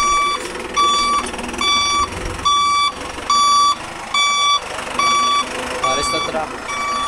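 A delivery truck backing up, its reversing alarm sounding as a regular series of about nine loud, evenly spaced beeps over a low engine rumble, with distant voices in the background.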